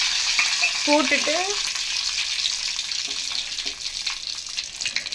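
Whole spices, including cinnamon, poppy seeds, fennel, bay leaf, clove and a cardamom, crackle in hot oil for a paneer curry, a steady close sizzle with a few splutters while a voice speaks briefly over it.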